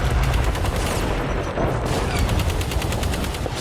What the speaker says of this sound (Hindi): स्ट्राइक टीम 1 पर दुश्मनों ने अंधाधुंध फायरिंग शुरू कर दी।